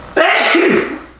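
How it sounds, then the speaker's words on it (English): A single loud, close sneeze from one person, a sharp breathy burst that fades out within about a second. "You've been sneezing."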